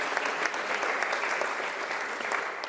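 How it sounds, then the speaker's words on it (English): An audience at a genomics and molecular breeding panel session claps for the panelists, a steady, moderately loud round of applause from many hands filling the room without any lull. "If we may put together a round of applause for them."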